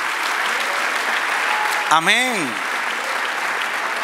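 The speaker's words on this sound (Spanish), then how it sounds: "Dale un aplauso al Señor" A church congregation applauds during a worship service, producing a steady, dense wash of clapping that runs throughout, with a voice briefly calling out over it near the middle.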